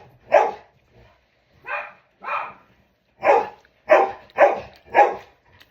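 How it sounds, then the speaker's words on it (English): A dog barks repeatedly downstairs while being groomed, seven or so sharp, fairly loud barks in an irregular rhythm with short pauses between them, no talking over them. "grooming a dog downstairs"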